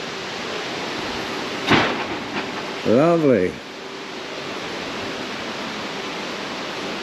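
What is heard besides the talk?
rain falling outdoors in Zaandam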